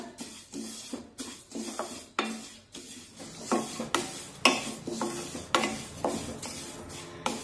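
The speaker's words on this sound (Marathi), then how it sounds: "तीळ आपले छानपैकी चटचट उडा लागलेले आहेत" Sesame seeds crackle and pop while dry-roasting in a pan, with repeated sharp clicks and stirring scrapes in an irregular rhythm, close and fairly quiet with no talking.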